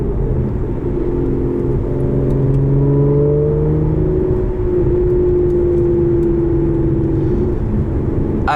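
A 2014 Aston Martin Vanquish engine revs under throttle from inside the car, a loud, continuous growl whose pitch climbs smoothly and then holds as it opens up past 2,500 rpm, with no speech.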